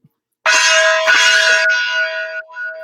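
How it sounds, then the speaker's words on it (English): A gong is struck once on a radio show and rings out loud and bright, its shimmering tone sustaining and slowly wavering for over two seconds after a brief silence. "can we just bang the gong for Joe Court real quick?"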